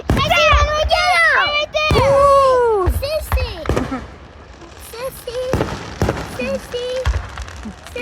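Fireworks boom in sharp, separate bursts over a town display, several loud cracks spaced through the clip while children chatter and squeal excitedly close by.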